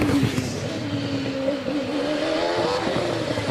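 A 2.5-litre V8 race car engine drones loudly and steadily at a hill climb practice, its pitch rising and shifting as it revs, with a rough, throaty mechanical edge.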